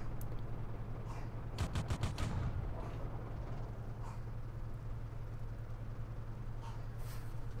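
Tank machine guns in World of Tanks rattle in a short rapid burst of shots, fairly faint, over a steady low engine rumble that carries on alone afterward.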